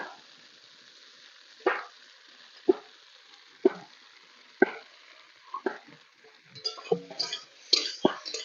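Potatoes fry for a meat curry in a pan outdoors, a quiet steady sizzle broken by about half a dozen sharp knocks of a spatula, then a busier stretch of stirring and clatter.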